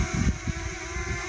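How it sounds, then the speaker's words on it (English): A drone heard from behind gives a steady droning whir with a thin, screechy upper tone from its propellers, moderately loud and continuous with slight pulsing. "we get a secondary frequency from the screech of the propellers"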